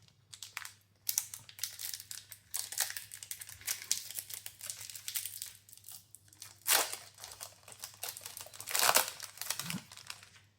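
A Magic: The Gathering Tarkir booster pack wrapper is torn open up close with dense crinkling and crackling foil rustles, rising into a few louder bursts near the end.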